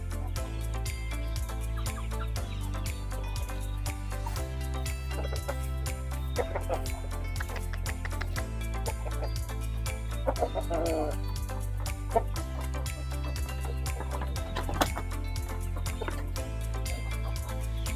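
Backyard flock of breeding chickens clucking steadily close by over a constant low background drone, with occasional louder squawks.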